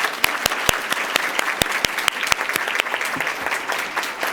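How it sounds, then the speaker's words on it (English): Audience applause at a Columbus Metropolitan Club forum for a panel of speakers and their host, steady dense clapping with sharp individual claps standing out near the microphone, no talking. "Another warm round of applause for Fran Frazier, Camille Quinn, Aliya Horton, and our host, Tonisha Johnson"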